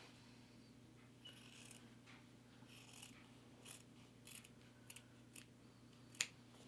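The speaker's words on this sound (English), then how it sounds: "I'm just going to use my scissors." Quiet snips of scissors trimming fabric quilt binding, a series of short crisp cuts at irregular intervals, ending with a sharper click.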